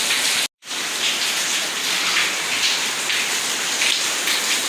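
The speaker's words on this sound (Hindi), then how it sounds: "बहुत तेज़ बारिश है।" Heavy rain pours down in a dense, loud, continuous hiss of drops striking surfaces nearby, broken only by a split-second cut near the start.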